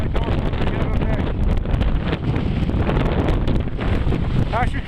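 Strong wind buffets the microphone on the summit of Hamlin Peak in Maine, a continuous loud roaring rush with gusty surges throughout.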